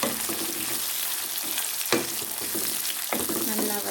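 Chopped onions sautéing in a pan for chicken devil, a dense close sizzle with a few sharp stirring scrapes of a spoon against the pan, no voices.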